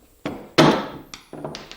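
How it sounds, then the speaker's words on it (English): A mallet strikes a socket to drive a press-fit post out of the base of a budget router table: four sharp, close knocks, the second and loudest one ringing a little longer. "Now using a socket and a mallet, I'm going to drive out one of the posts."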